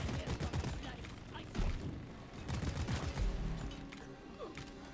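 Deep Rock Galactic gunfire from the player's weapon comes as rapid, sustained bursts of loud shots with short gaps, and other game sounds play underneath.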